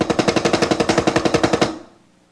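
Rapid single drum strokes played with the whole forearm, a fast even stream of about twenty sharp hits that swells in force and then stops abruptly, leaving a short ringing decay.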